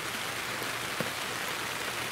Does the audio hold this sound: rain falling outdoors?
yes